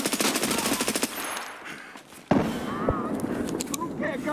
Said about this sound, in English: He shot at me through a wall, dude.